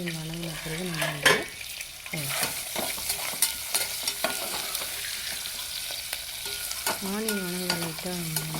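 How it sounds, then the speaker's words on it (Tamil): Onions sautéing in ghee in a pot for mutton biryani: a close, steady sizzle with intermittent scraping stir strokes, plus a brief wavering tonal voice-like sound at the start and end. "ஆனியனை போட்டுட்டு நல்லா அதை வதக்கலாம்."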